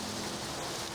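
Steady rain pours down at Merak ferry harbour on the eve of Lebaran, a dense continuous hiss of drops hitting surfaces that stays loud and even throughout, with no voices.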